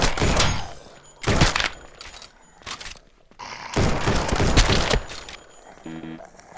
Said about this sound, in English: Courtney, I kind of used up too much ammo there